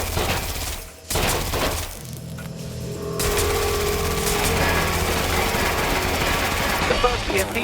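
Sustained rapid gunfire in the Watch Dogs Legion video game, a dense, loud stream of automatic shots with mechanical clatter running almost without pause across the whole stretch.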